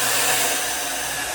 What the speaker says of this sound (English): I get a bigger volume buzz blow dryer.